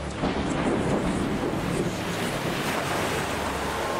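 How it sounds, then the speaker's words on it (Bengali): Storm wind roars steadily with heavy rain, a loud, dense, unbroken rush of noise with no voices. "কিছুক্ষণের মধ্যেই ঝড়ের সাথে শুরু হলো প্রবল বৃষ্টি।"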